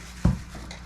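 A pan lid set down after butter goes into the pan: one short, close, dull clunk of metal cookware, followed by quiet room tone and no talking.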